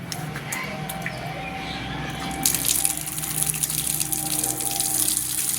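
Water runs steadily from a tap while a child washes their feet, growing louder and gushier partway through, with a faint bird in the background.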